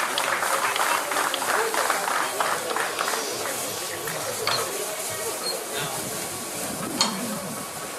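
Sustained crowd applause fills a cattle auction at a rural show in Corrientes, Argentina, a steady dense clapping wash lasting throughout, with a voice heard over it.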